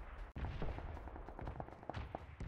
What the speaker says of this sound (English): Ooh, gun, where?